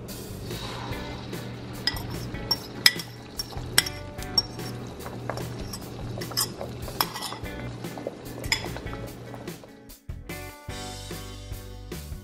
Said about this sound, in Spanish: Y así lo vamos quebrando para que se haga en pedacitos chiquitos.